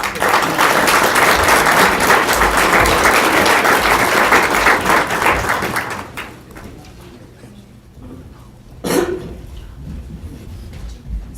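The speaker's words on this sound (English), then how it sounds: "They may have one more round of applause." A council meeting audience claps in a steady, loud burst for about six seconds, then the applause drops away, leaving a quiet room with a brief knock and faint murmurs.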